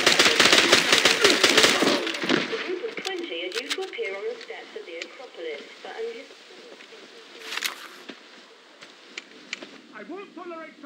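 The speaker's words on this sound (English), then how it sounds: "Keep firing!" Gunfire in the James Bond 007: Blood Stone action game: a dense, rapid burst of automatic fire up close, thinning into scattered shots and battle noise while voices speak over it.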